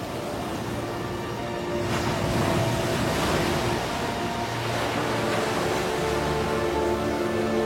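Ocean waves surging against a rocky coastline, a continuous broad roar of surf with swelling pushes, mixed with wind and a low music bed, no voices.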